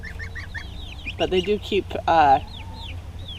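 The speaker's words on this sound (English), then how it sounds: "this short little sound that is starting to sound like a honking goose" Young goslings kept alongside chicks give short, low-pitched honks mixed with chirpy peeping, heard close up in quick bursts while a person speaks briefly.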